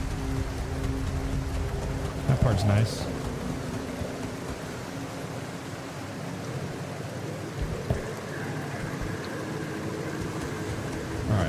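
Steady rain falls in the video game The Alters, a constant hiss of drops across the whole stretch with a faint distant rumble, while someone speaks briefly over it.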